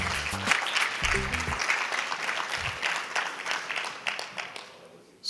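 Audience applause greeting a speaker at a reefkeeping talk, a dense crowd of clapping that holds steady then thins and fades toward the end, with a few brief voices murmuring underneath.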